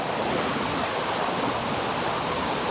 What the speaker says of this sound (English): You can see where the white water is from the waterfalls